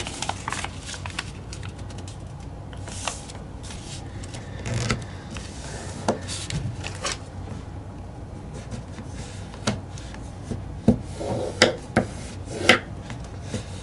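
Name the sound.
folding and creasing paper for a paper airplane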